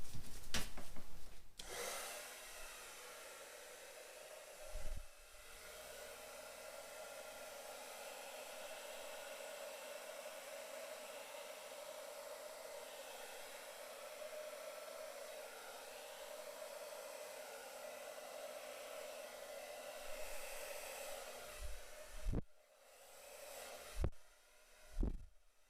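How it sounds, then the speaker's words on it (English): A hair dryer on a low fan, cool setting, blows acrylic paint across a heart-shaped canvas with a steady, close airy whoosh that lasts about twenty seconds before clicking off among small handling knocks. "I'm just going to blow this out on cool air low fan and see what happens"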